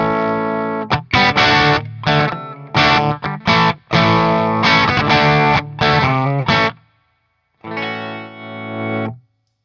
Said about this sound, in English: It's the Antares Overdrive.